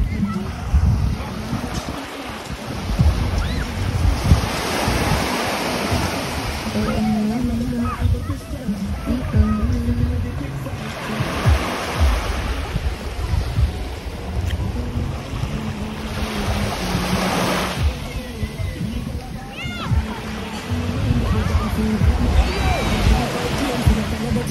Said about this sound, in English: so we finally reached the beach